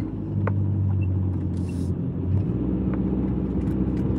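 A car rolls slowly through a cemetery at night, its engine a steady low rumble with road noise close by, heard alone with no talk.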